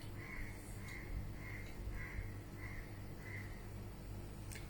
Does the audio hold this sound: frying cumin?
no